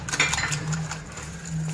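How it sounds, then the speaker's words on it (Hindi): A spoon clinks and scrapes against a bowl while potato kebab mixture is blended with chili and salt, a short run of light metallic taps close by, with no talking. "हम इसको अच्छी तरह मिक्स कर लेंगे"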